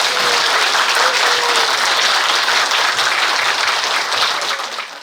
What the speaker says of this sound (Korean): 뜨거운 박수로 부탁드립니다.